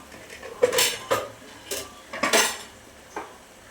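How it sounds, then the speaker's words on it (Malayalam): Meat rice being stirred in a pot, heard as several distinct metallic scrapes and clinks of a spoon against the pot in an uneven rhythm, close and moderately loud, with quiet gaps between strokes. "ഒന്ന് ഇളക്കി കൊടുക്കുക"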